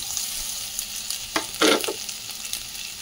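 Garlic frying with browned onions in a hot pan gives a steady, close sizzle, with a brief louder burst of stirring midway.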